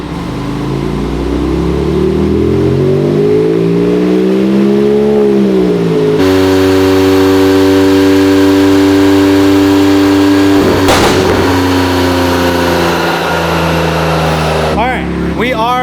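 A Nissan Z engine on a dyno, running a little rich, revs hard and loud, rising and falling, then holds a steady high-rpm roar with a sharp burst near the end; voices mixed in.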